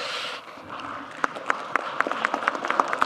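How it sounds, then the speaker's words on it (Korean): Sparse clapping at a town-hall style meeting in Ulsan, South Korea, starting after a second of murmur and settling into a handful of distinct, evenly spaced claps, fairly faint and not a full crowd ovation. "왜 뭐 고향 사람이라고 박수 주는 거예요?"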